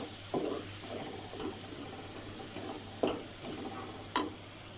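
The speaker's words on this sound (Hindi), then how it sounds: "लहसुन और अदरक को भी मैंने जो 1 से 2 मिनट भून लिया है प्याज के साथ" Crushed garlic and ginger frying with onion in a karahi: a steady low sizzle under repeated scraping and stirring strokes from a spoon against the pan, with a few sharper clinks, close and moderately quiet, no talking.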